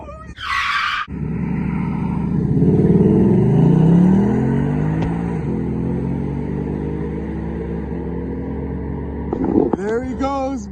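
A car with a 5.0 Coyote V8 and 10-speed automatic pulls away on a mountain road, its engine note climbing through a gear and then droning steadily as it recedes, with a short burst of voice at the start and end.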